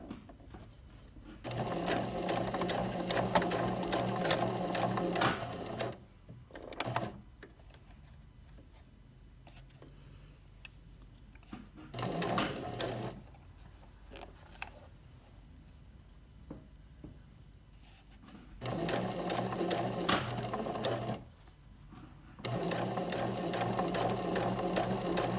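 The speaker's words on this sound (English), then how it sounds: "I'm gonna back stitch." A sewing machine back stitching a fly zipper runs in several loud steady bursts of rapid stitching, separated by short pauses while the fabric is turned and repositioned.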